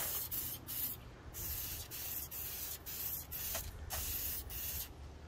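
An aerosol spray paint can laying down a base coat, delivering a series of close, steady hissing bursts, each about half a second to a second long with short pauses between, fairly quiet with no talking.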